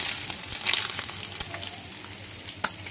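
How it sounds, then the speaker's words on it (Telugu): Fish pieces shallow-fry in a pan over low to medium flame, a close crackling sizzle dotted with sharp oil pops and spits, one louder snap near the end, with no voices. "అదే ప్యాన్లోకి వేరే ముక్కలు కూడా వేసేసుకొని మొత్తం అదే పద్ధతిలో ముందు లో ఫ్లేమ్లో, తర్వాత మీడియం ఫ్లేమ్లో పెట్టుకొని అటు తిప్పుకుంటూ ఫ్రై చేసేసుకుంటే"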